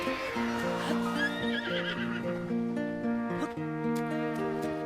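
Horse in the Wii U game Breath of the Wild gives a clear, loud, descending whinny followed by snorting, with game music tones sustained underneath.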